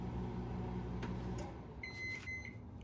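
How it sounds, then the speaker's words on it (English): A microwave oven cooking an omelet hums steadily up close, with a few faint clicks and a short series of high beeps toward the end, no voices. "This is how we're starting it, with an omelet in the microwave."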